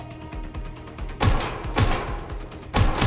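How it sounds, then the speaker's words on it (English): Heavy game gunfire rattles in repeated bursts, rapid shots in loud clusters with booming hits, fairly close and with no talk. "I'm getting shot at here!"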